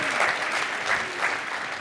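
Audience applause at a dbt Coalesce 2024 keynote, a brief burst of steady, dense clapping from a large hall.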